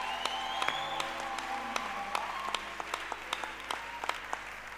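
A church congregation applauds at a worship service, steady moderate clapping with sharper individual claps standing out, heard at some distance.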